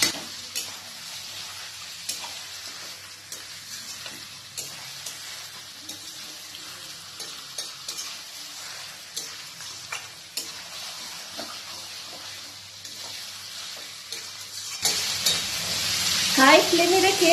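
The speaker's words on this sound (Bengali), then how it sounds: "এরপর ফ্লেমটাকে হাই রেখে ভালো করে মেশাতে হবে যতক্ষণ না মাংসের কালারটা চেঞ্জ না হয়ে আসছে।" Mutton stirred and fried in a pan over a high flame, a steady close sizzle with scraping spoon strokes throughout, swelling into a louder, brighter hiss near the end.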